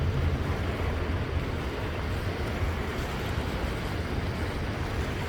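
Small waves lap on the Hood Canal shore in Washington, a continuous rushing wash with heavy low wind rumble against the microphone, steady and unbroken.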